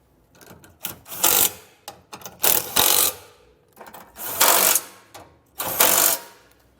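Bolts for a trailer hitch on a 2022 Chevrolet Colorado are tightened with a hand ratchet, close and loud, in repeated bursts of rapid clicking separated by brief pauses.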